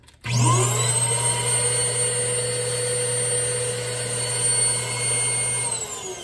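A blast cabinet's dust collector gives a loud, steady machine drone with a piercing high-pitched whine, starting abruptly and running continuously before cutting off near the end.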